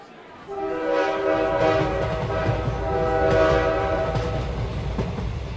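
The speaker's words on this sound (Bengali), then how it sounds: "একটুও দেরি না করে ঠিক সময় ট্রেন ছেড়ে দিল।" A passenger train pulls out of the station, a long sustained horn blaring loud and close over the low rumble and clatter of the moving carriages for several seconds.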